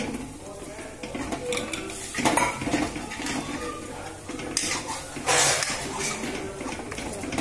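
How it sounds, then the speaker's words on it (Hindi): A utensil scrapes and clatters against a cooking pot as food is stirred, in uneven bursts of metallic scraping that come close and fairly loud, with a voice talking faintly beneath. "अब मैंने इसको चला दिया दोस्तों, मैं इसको चला रहा हूँ।"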